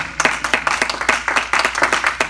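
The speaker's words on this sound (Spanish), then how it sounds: "¿Cuánto damos un fuerte aplauso al Señor?" A church congregation claps steadily and briskly together, the rapid hand strikes forming dense, even applause that carries on throughout without a break.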